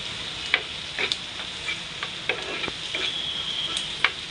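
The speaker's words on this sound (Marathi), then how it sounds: "लसूण ठेचलेला व्यवस्थित परतवूया आपण" Ginger-garlic paste and crushed garlic sauté in a pan with a soft, continuous sizzle, dotted with occasional light spatula taps and scrapes.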